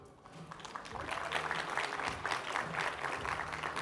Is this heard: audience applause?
yes